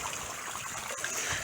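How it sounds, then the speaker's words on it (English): Water splashing and trickling out of a leak in a small backyard goldfish pond, running down behind rocks; a faint, steady babbling close by with no voices. "The water's splashing out and coming down in here behind these rocks."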